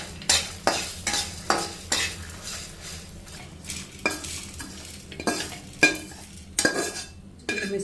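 Chana dal and other ingredients stir-fried in a metal pan with dry coconut pieces, a spatula scraping and clanking in a regular rhythm of sharp strokes over a continuous low sizzle, close by with no talking.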